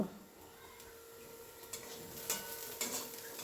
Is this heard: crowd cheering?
no